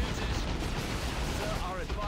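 Battle in the real-time strategy game Dawn of War 2 Retribution, with Ork shoota boyz trading fire against Imperial Guardsmen: a dense, continuous roar of gunfire and explosions, loud and unbroken, with faint whistling tones over the din.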